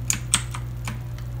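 Eagletec KG040 mechanical gaming keyboard, several sharp key clicks at an uneven typing rhythm, close up over a low steady hum.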